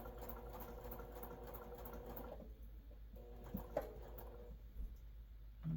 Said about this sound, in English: I sew real slowly there to nest these in